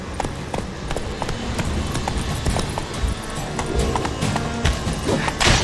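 Horse hooves clip-clop steadily at a running pace in The Witcher 3, a loud rhythmic clatter over game ambience, with an occasional faint snort and no talking.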